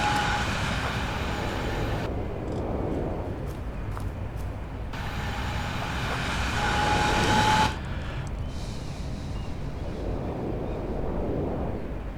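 A video game train passes through a station, a steady rumbling roar that swells and cuts in and out in sections across the clip, loud and continuous with no talking.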